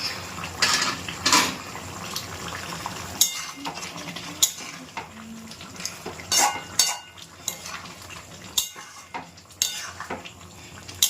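Spoon stirring salt into chicken curry in a metal pot, with repeated scraping and clanking against the pot walls in irregular bursts over a soft simmering sizzle, close up.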